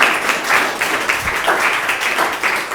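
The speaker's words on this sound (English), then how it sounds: "Can we clap for everyone" Audience clapping for everyone at a recovery college session with people with learning disabilities: a few seconds of steady, moderately loud clapping from a modest group, individual claps audible in an even patter.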